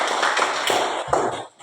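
A classroom group gives brief applause, a short burst of scattered hand claps that fades out within under two seconds.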